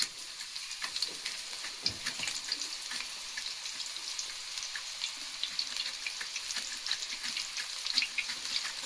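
Thin-sliced potato wafers frying in hot oil, a soft steady sizzle with faint crackles and a few louder pops, moderately quiet and continuous with no talking.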